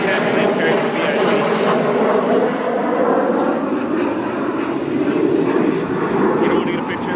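A plane thought to carry a VIP passing overhead, its engine a loud, steady roar filling the whole stretch, while people talk beneath it.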